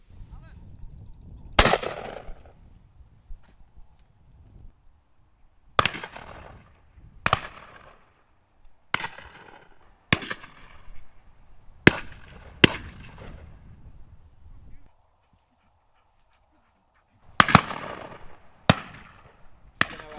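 Shotguns fire at ducks over a flight pond, a series of about nine sharp reports, some distant and some closer, spaced irregularly with brief echoes and quiet gaps between.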